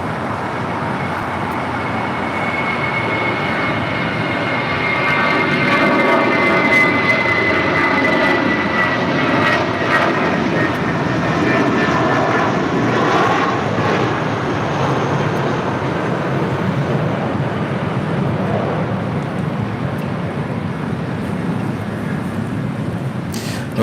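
A Boeing 747 at LAX during a pushback, heard as a loud, continuous jet engine roar that holds steady for the whole stretch and blends with a broad background of airport noise.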